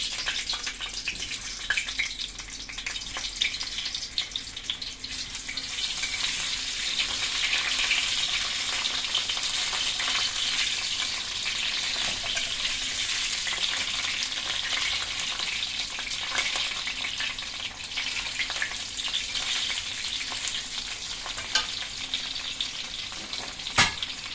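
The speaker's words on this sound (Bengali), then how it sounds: "তো তেলটা আমার গরম হয়ে গেছে, আমি এখন আলুগুলো দিয়ে দিচ্ছি" Potatoes fry in hot oil for a Bengali home-style dish, a continuous dense sizzle and crackle that swells after the first few seconds and holds steady, with occasional stirring clatter and no voices.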